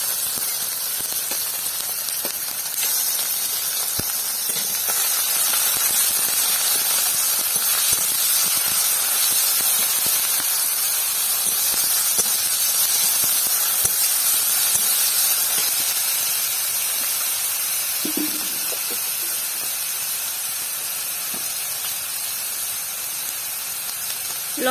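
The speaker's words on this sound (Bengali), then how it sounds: "পেঁয়াজ বাটা দিয়ে দেব।" Onion paste hitting a hot pan for a village-style Bengali prawn malai curry, producing a loud, continuous steamy hiss that holds steady for the whole stretch, close up, with no talking.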